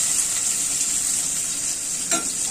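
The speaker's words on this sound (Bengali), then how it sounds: "পেঁয়াজ কুচি দিয়ে দিয়েছি, এখন পেঁয়াজটা ভাজে নিচ্ছি।" Chopped onion fries in a pan with a steady, close hiss of sizzling oil throughout, a brief stir or clink near the end.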